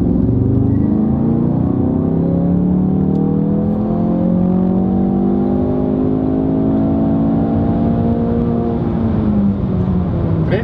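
A tuned Ford Focus RS, boosted by 55 PS and 75 Nm, accelerates hard with the engine revving high, a loud, steady roar with rising and falling harmonics sustained throughout from inside the car.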